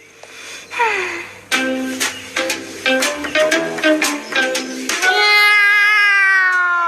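A cartoon cat meows in a run of loud, drawn-out cries over background music, ending in a long sustained wail.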